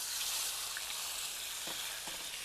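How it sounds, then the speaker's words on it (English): Steak searing in a hot stainless steel pan gives a steady, close hiss and crackle of sizzling fat, continuous throughout with a few small pops and no talking. "There's that sizzle."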